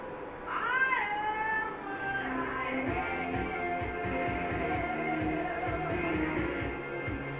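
A person imitates a cat, voicing several drawn-out, rising and falling meows up close, loud and alone with no other speech, mimicking a real cat's cries.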